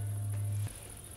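A wasp drones close by in a steady low buzz that cuts off abruptly partway through, outdoors at night, with a constant high chirping of crickets behind it.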